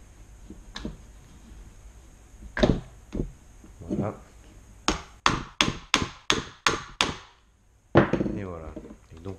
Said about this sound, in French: Petit maillet, hein, n'allez pas prendre un marteau pour tout défoncer.